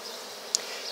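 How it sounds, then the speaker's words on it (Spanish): Honeybees leave a Warré hive to forage, making a steady close buzz. One brief, sharper whine rises as a bee passes near. "automáticamente salieron las abejas a pecorear por ahí"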